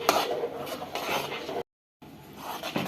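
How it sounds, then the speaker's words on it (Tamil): A spoon scrapes and rubs through a fried semolina and coconut mixture in a pan, close scratchy stirring strokes broken by a short silent gap. "போட்டு நல்லா மிக்ஸ் பண்ணி விட்டுக்கலாம்."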